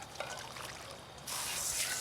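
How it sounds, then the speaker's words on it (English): Water runs into a batch of pumpkin seeds being cleaned of pulp, starting as a soft trickle and turning into a louder, fuller pour partway through. "Now we're going to clean the pumpkin seeds and put a little bit of water into them"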